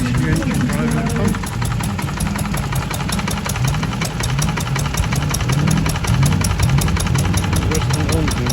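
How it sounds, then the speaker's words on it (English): A 1940 stationary engine built in Lincoln drives a pump at a vintage show, giving a steady knocking, idling beat throughout while people talk nearby. "Stationary engine driving pump."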